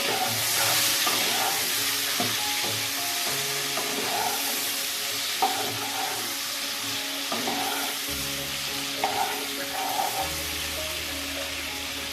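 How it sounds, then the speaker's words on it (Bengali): Paneer cubes frying in a pan until lightly browned give a steady, close, continuous sizzle throughout, with faint tonal sounds underneath. "তো পনিরগুলোকে আমি ভেজে নেব, হালকা লাল করে ভেজে নেব"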